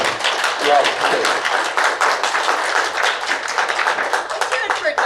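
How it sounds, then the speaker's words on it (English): Conference audience applauding steadily after a welcome introduction, a dense, sustained wash of many hands clapping at close range, with speech mixed in. "let's give a big round of applause"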